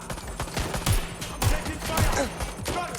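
Bursts of rapid gunfire in the video game Watch Dogs: Legion ring out in several loud volleys over about three seconds, with a voice speaking now and then beneath them.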